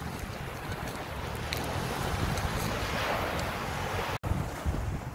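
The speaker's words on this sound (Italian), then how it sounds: "Ed ecco il mare di Rossano." Sea waves breaking on the shore at Marina di Rossano in Calabria, a steady wash of surf with wind rumbling across the microphone, continuous and fairly close, with no voices.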